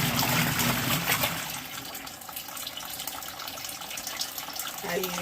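Water runs steadily from a tap or inlet as clothes are washed in an RV washing machine, a continuous close hiss and trickle lasting throughout, with faint voices in the background.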